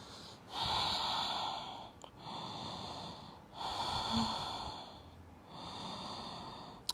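Slow, deep yoga breaths drawn down into the pelvic floor, four long airy inhale-exhale cycles with audible nasal rasp, close and steady, with no talking.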